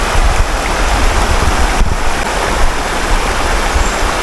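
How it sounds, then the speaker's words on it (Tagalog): A strong mountain river current rushes in a steady, loud, broadband roar that holds unbroken from start to finish, close and with no voices. "sinusukat yung lakas ng agos ng tubig"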